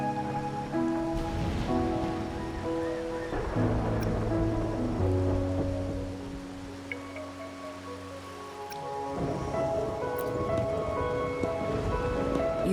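Steady rain falls in the video game Wuthering Waves, a soft continuous patter running the whole time beneath a quiet melodic music bed, with no one speaking.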